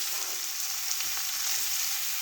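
Brussels sprouts for a cheese sprout and egg fry sizzle steadily in a hot pan as they are tossed, a dense continuous frying hiss with faint scraping and movement underneath, close and alone.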